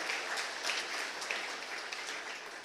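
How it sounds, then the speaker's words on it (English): Audience applause at a forum event, a full, steady burst of many people clapping, fairly loud and continuous over a few seconds with no talking. "Another round of applause."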